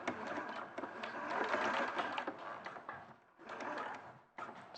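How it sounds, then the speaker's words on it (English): Sewing machine stitches fabric in a quick steady whirring run, with a brief pause and a short restart, close and moderately quiet, no voices. "And then I'm just going to machine stitch"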